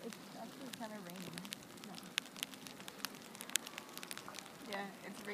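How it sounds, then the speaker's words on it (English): Rain pattering and crackling steadily onto snow outdoors, with scattered sharp drop ticks close by throughout; people talk faintly in the background. "Yeah, it's raining."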